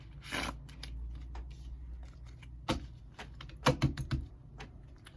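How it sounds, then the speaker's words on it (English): Soft papery riffles and taps of tarot cards being shuffled close by, in short irregular bursts over a quiet background. "One more shuffle here."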